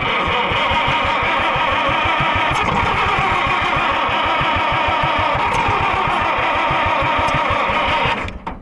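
A neglected Oliver 60 tractor, choked by hand because its choke cable is stuck, runs loud and close with a rapid, steady chugging beat that cuts off abruptly at the end.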